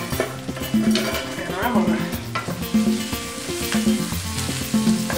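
Short grain Bomba rice stirred into a sizzling paella pan, with a loud continuous fry and repeated scraping stir strokes at a regular rhythm, close up, with background music and a voice now and then.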